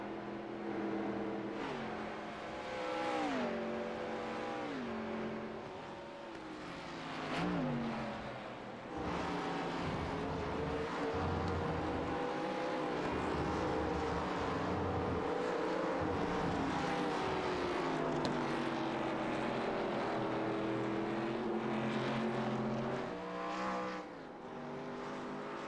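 Race cars scream around Watkins Glen in a continuous loud drone, engines rising and falling through gear changes as several cars pass close together over a long stretch.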